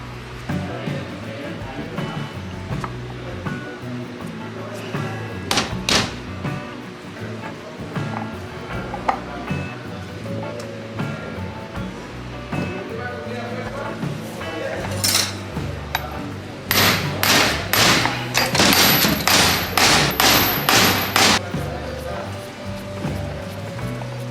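Metal parts clink and tap while blower rotor gears are fitted on a Detroit Diesel 4-53 two-stroke rotor blower, scattered light knocks becoming a quicker cluster of sharp taps later on, under a speaking voice.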